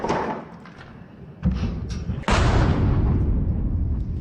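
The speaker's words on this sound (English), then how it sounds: "We can hear explosions nearby" Nearby explosions in war-torn Bakhmut near an industrial warehouse area, heavy booming thuds that hit suddenly and leave a rumbling roar, the loudest blast arriving last and sustaining.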